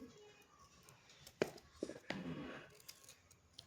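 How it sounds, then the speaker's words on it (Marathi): A knife chops spiny gourd (kantola) into small pieces, giving a few sharp, quiet cuts spaced about half a second apart against a soft room background. "हे असे कापून घ्यायचे छान छोटे छोटे"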